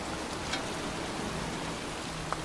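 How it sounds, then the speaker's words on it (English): Steady pouring rain falling in a cemetery in the video game Heavy Rain, a dense even hiss of drops on surfaces with no pauses, close and continuous, with no voices over it. "standing in a cemetery, pouring rain"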